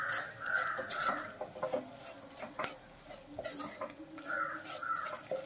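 Duck mappas, a Kerala duck curry with pepper powder, stirred in a pot with a spoon, making scraping clinks and soft wet stirring scrapes in steady repeated strokes, close up with no talk.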